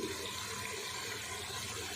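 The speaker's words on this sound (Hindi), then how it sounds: "2 गिलास मैं इसमें पानी डाल रही हूँ" Water pours steadily into a cooking pot of kaddu gosht with tomatoes, a continuous rushing splash, close by and loud, with no talking.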